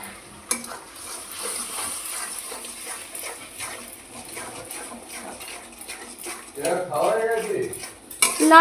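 Masala with turmeric and Kashmiri red chili powder is stirred and fried in a pan for a soya chunk curry, with close scraping strokes over a soft sizzle and a brief voice near the end.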